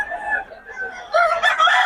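A fighting cock crows loudly nearby, one long strained call followed by a brighter, louder burst, with faint background noise.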